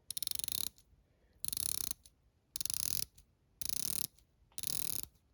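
A full bronze bezel on a limited dive watch is turned in five separate bursts of fine, rapid ratcheting clicks, crisp and close, with short silent gaps between them.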